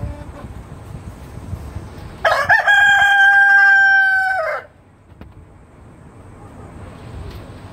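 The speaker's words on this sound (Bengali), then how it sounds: "মোরগের ডাক খুবই চমৎকার এবং হাইব্রিড ভেরিয়েন্টের মোরগ" One loud, close crow from a hybrid-variety rooster rings out for about two seconds, then fades into quiet farmyard background.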